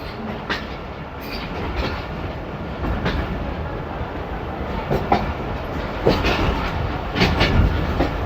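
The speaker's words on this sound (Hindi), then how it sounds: "गुजर खान रेलवे स्टेशन से खूबसूरत डिपार्चर।" The Pakistan Express pulls out of Gujar Khan railway station with a continuous rumble and irregular clickety-clack of wheels over rail joints, carrying on steadily at close range.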